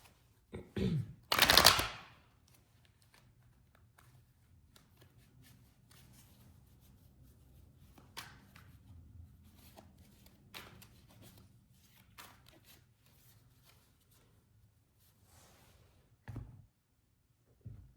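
A brief burst of tarot cards being riffled and shuffled near the start, followed by long quiet stretches with faint handling and occasional soft taps.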